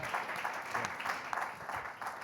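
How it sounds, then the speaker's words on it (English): A conference audience claps steadily in a dense, even patter that lasts throughout, heard from a little distance and fairly quiet, with no voices over it. "Applause, please, for Mr. Papandreou"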